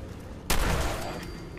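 A sudden burst of gunfire in Fallout 4 erupts after a quiet moment, then becomes a sustained, dense, loud roar of shots and explosions without a pause.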